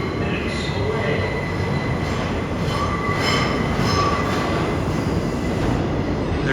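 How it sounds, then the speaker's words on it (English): A New York subway train pulling into Chambers St station, a loud continuous rumble with wheels squealing against the rails and rhythmic clicking as the cars roll in, heard up close on the platform. "Approaching the station. A train coming in there."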